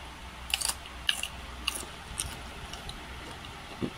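Raw okra bitten and chewed up close: several crisp, crunchy bites in a short uneven series, with no talking.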